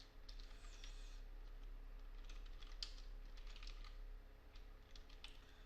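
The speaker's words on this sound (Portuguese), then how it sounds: "Eu vou digitar assim, quantidade de resultados." Someone types on a computer keyboard during a Portugol programming tutorial: quick, light clicking of keys in uneven bursts, faint and close, over a low electrical hum, with no talking.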